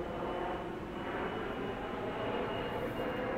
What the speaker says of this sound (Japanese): あ飛行機が来ちゃった